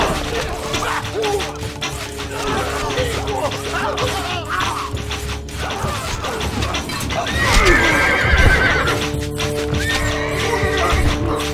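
A horse in the Stronghold Crusader strategy game gives a loud, shrill whinny, with clip-clopping hooves, all set over steady game music and ambient battle noise.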